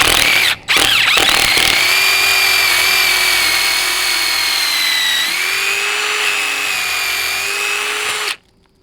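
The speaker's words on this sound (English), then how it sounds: "I'm just going to drill a pilot hole" A power drill boring a pilot hole for a brace whines loudly and close by, with a brief stop and restart early on and a drop in pitch partway through, before cutting off abruptly.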